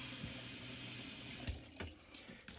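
Water runs from a travel trailer's taps during winterizing, a steady close rush of flowing water into a sink, with a few faint knocks but no talking.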